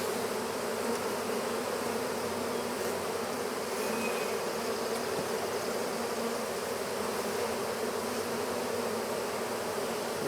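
A swarm of bees pours out of a cat house, giving a dense, steady buzzing drone that holds close and fairly loud throughout, with no voices.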